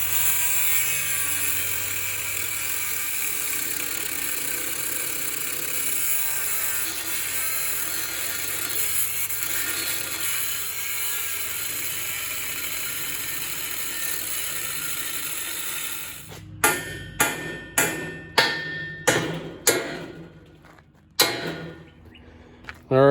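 An angle grinder cuts off steel studs on a metal carport frame, a long steady high whine for most of the stretch, then a run of short sharp bursts and pauses as the last pieces are cut through, close and loud.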